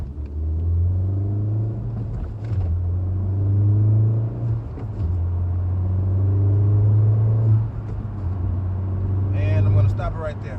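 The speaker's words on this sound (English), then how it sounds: "I'm gonna let it go forward a little bit, and then I'm gonna launch it" A manual Honda Civic Type R idles and then pulls away gently on a street, its low, steady engine drone shifting slightly in pitch as it creeps forward and launches softly, loud and close throughout.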